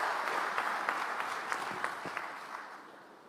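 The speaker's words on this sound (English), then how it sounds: "Another round of applause." Faint round of audience applause at a business summit in Nairobi, a steady patter of clapping that gradually fades out over a few seconds.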